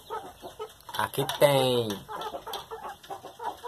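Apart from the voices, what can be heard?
young hens clucking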